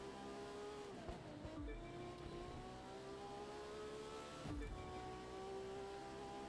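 A car in The Crew 2 racing game drives with a steady engine drone. The engine revs up and shifts twice, with a low thump at each change, and there is no talk over it.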